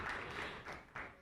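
A short burst of audience clapping at a ghazal recital, a few rhythmic swells of hands over about a second, moderately loud in the hall.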